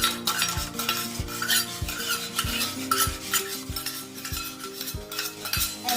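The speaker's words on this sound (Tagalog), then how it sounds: "Dapat mix well natin." Carrot and malunggay puto batter is stirred and mixed in a bowl, a steady rhythmic scraping with a regular knock of the utensil against the bowl roughly every half second, close and fairly loud, with no talking.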